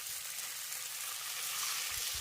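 Spiced tomato and prawn mixture for a brinjal curry sizzling in a pan as water goes in, a continuous hissing fry at moderate level with a few low thumps near the end.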